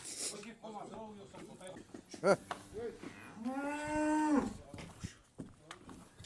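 A young calf lowing on a farm, with one long, strong harmonic moo in the middle, shorter calls around it, and people talking nearby.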